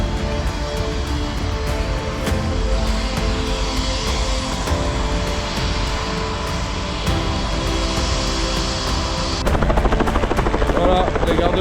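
A fishing wardens' helicopter flying in Sweden, a loud, steady rotor thump and engine drone that continues throughout and swells louder near the end.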